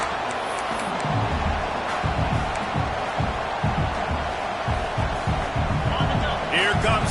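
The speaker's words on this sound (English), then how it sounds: "This crowd, full throat, splitting the eardrums and letting them know it's going to be." Stadium crowd roaring in College Football 26, a dense, sustained wall of cheering noise under continuous play-by-play commentary, steady and loud throughout the stretch.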